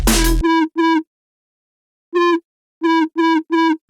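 Short synth bass notes in the style of a drum and bass tune: a brief dense hit, then a handful of clipped, buzzy tonal stabs in two groups separated by a gap of silence, loud and alone.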